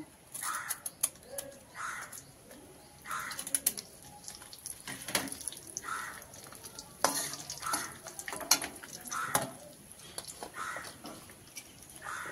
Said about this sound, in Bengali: এবার আমি এতে তেজপাতা একটু ফোড়ন দিচ্ছি